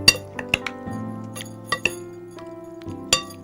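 Fish marinade stirred in a bowl, light metallic clinks and taps of a spoon against the dish at irregular intervals, fairly close, over a steady background hum.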